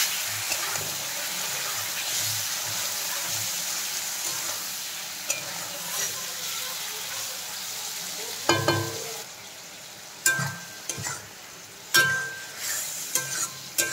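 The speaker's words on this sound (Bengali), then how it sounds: "এখন আমি চিংড়ি মাছগুলো দিয়ে দিলাম, ভেজে নেব ভালো করে" Shrimp fry in hot oil seasoned with salt and turmeric, a soft continuous sizzle with stirring, followed by several sharp clatters of a utensil against the pan near the end.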